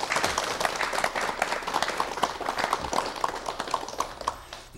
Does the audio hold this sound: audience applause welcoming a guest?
yes